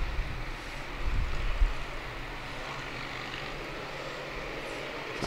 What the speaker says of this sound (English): it's a bunch of motorcycles going down I-30